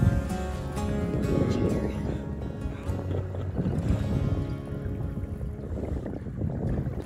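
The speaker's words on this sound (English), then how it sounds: "Found a little breeze out here." Breeze on open water buffets the microphone on a small 15 to 17 foot boat, a constant low rumbling wind noise with faint voices in the background.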